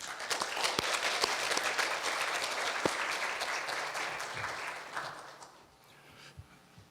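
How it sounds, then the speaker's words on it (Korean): An audience at a university special lecture applauds to welcome a professor. The dense, even clapping continues for about five seconds and then dies away to near quiet. "박수로 맞아주시기 바랍니다."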